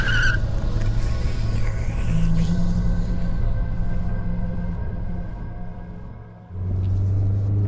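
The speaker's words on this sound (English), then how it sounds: "the tires screeched as Lonnie floored it" A van's engine roars and its tires squeal under hard acceleration in a long, loud, steady rumble with a squealing edge that drops briefly, then surges again; no talking.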